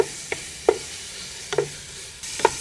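Fish biryani masala sautéing in a pan with garam masala and turmeric, a soft sizzle punctuated by a few sharp spoon scrapes and stirs at irregular intervals, close and moderately loud with no talking.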